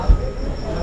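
A train pulling into a station, a low rumbling rail-and-wheel sound that holds steady and moderately loud throughout, with a brief heavy thump near the start.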